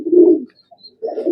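A high flyer pigeon coos up close in two low, throaty bursts separated by a brief pause.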